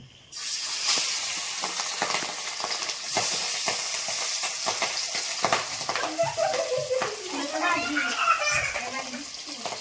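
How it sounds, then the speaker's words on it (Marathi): Masala-coated fish frying in hot oil, a steady broadband sizzle with scattered crackles and pops throughout, while a voice talks over the cooking. "हे थोडंसं गरम करून थोडीशी तळून घ्यायची असते"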